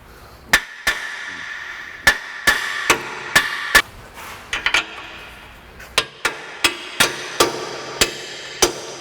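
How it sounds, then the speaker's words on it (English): Hammer tapping the rear axle of a 2004 Ford Explorer into position during a wheel bearing job: a string of sharp metallic strikes, irregularly spaced, close and loud, with no voices. "But I need to tap this into position so that I can get this bolt through."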